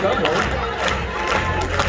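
Crowd clapping and cheering loudly at a timed cooking challenge in the Coachella Valley, a dense, continuous roar of applause and shouts with voices mixed in.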